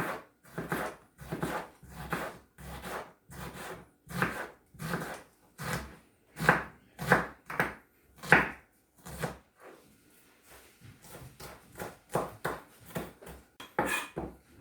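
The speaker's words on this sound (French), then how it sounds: "il n'y a plus qu'à le hacher finement" A knife finely chops vegetables on a board for a Mexican salad. Crisp, evenly spaced cuts come in quick runs, pause briefly, then resume at a brisk rhythm.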